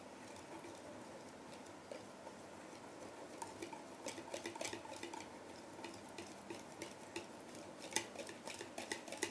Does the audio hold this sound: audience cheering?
no